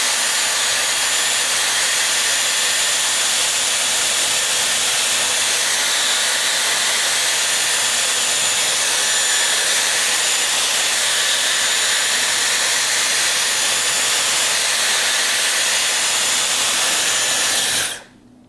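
A Dyson Airwrap Complete styler blows air onto thick, curly hair. Its loud, steady, high-pitched rushing whoosh runs unbroken for nearly twenty seconds, then cuts off abruptly at the end.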